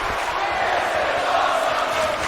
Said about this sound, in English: The crowd was loving it.